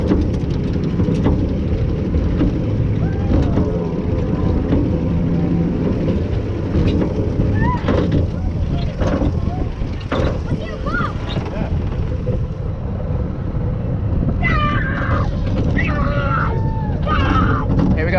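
An older Schwarzkopf roller coaster, the Cannonball Express at Pleasurewood Hills in the UK, runs through its track with steady rumbling and strong wind buffeting from a front-row seat, while riders talk and call out over it.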